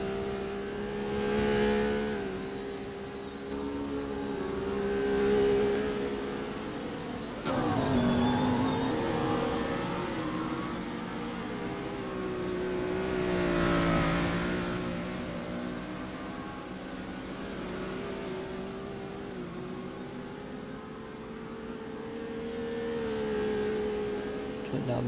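Race cars circle the banked Augusta Raceway during a GT International race, their engine whine rising and fading as they pass, with a louder nearby pass midway and people talking over it.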